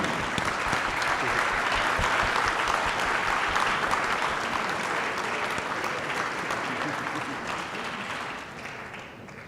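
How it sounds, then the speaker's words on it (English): A conference audience at a closing plenary session gives delegates sustained, dense applause, many hands clapping together loudly and steadily before gradually thinning toward the end. "a very big applause for those delegates"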